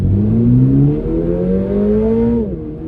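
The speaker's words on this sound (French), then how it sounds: "on se met en track mode. Et dans 3, 2, 1, throttle down au fond." A car accelerating at full throttle in track mode, its engine loud and close with a steadily rising whine that climbs for about two and a half seconds and then eases off.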